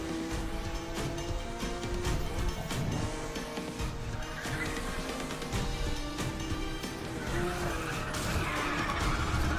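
A car skids through a corner in the racing game Need for Speed The Run, tires squealing over a steady, loud engine roar. The sound runs without a break for the whole stretch, with no one talking.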